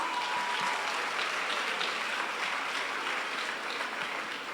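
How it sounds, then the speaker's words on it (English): A school event audience claps steadily and densely throughout, a sustained wash of applause at even loudness from start to finish. "If you're proud of them, clap again."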